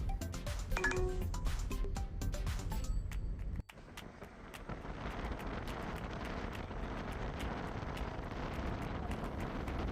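Steady broadband rush of wind blowing across a microphone outdoors during a trip to temple sites, continuous and fairly loud, with a brief dip near the middle before the gusting resumes.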